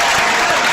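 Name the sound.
clap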